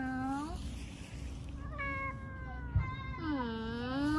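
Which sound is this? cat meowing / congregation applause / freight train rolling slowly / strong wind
cat meowing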